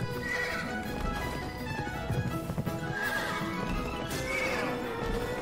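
In the video game Pumpkin Jack, a horse whinnies loudly several times over a steady clip-clop of hooves, with game music beneath.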